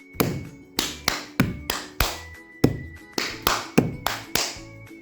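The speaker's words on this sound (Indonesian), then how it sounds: "K hentak kaki, T tepuk tangan, dan T tepuk tangan" Body percussion repeats a steady rhythm of one foot stomp followed by two hand claps, each cycle a low thump then two sharp, crisp claps, played cleanly and close with no talking.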